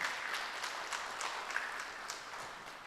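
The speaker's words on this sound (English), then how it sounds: "So let's give a round of applause to Dr. Mzime." Applause from a conference audience, a steady wash of many hands clapping at moderate distance, even and sustained throughout without clear gaps.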